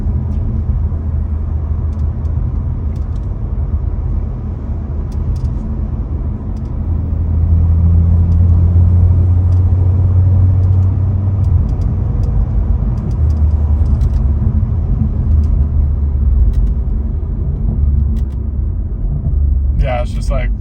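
BMW F30 with the B58 engine and a tuned transmission drives along with a steady, loud engine rumble, swelling briefly as the gears change; someone talks over it.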